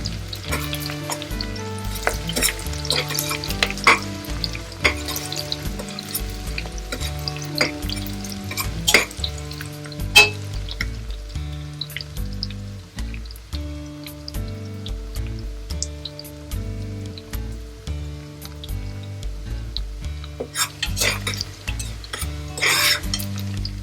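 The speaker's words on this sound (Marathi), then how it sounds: "कांदा आपला चांगला गुलाबी रंगावर असा भाजत आलाय" Chopped onions fry in a pan for split moong dal khichdi, giving a steady close sizzle with crackles and occasional stirring scrapes, heard alone without talk beneath faint steady background music.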